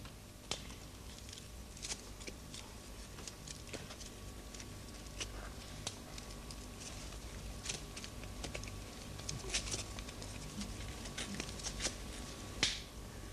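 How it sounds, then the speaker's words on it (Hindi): A handmade clapper toy of two identical cardboard pieces gives sharp, dry clicks at an irregular pace, some louder than others, against a quiet room hum with no talking. "गत्ते की ताली।"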